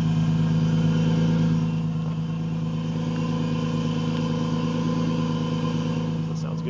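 A supercharged 2005 Nissan 350Z Touring sits at a warm idle, giving a steady, even low engine drone with a faint whine on top, close and continuous.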